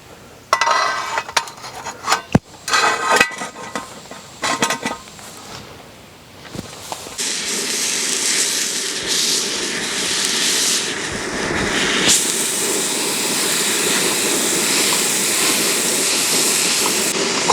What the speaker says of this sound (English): I'm going to cook up the ground beef.